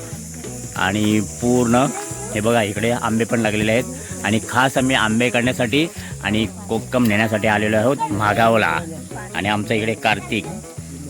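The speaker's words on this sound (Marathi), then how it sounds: "त्या रातकिड्यांचा किरकिराट चालू आहे." Crickets in a mango and kokum orchard at Mahagav in Konkan keep up a continuous, steady high trill, heard throughout beneath someone talking.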